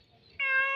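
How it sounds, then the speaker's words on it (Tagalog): Single short cat meow, clear and fairly close, rising out of quiet room tone and held briefly. "Ngayon, pusa ko nangingiyaw."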